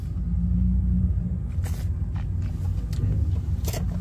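Ford Mustang 5.0 V8 idling with a steady, deep low rumble held throughout, close and continuous, with a few faint higher clicks or footsteps on top and no talking.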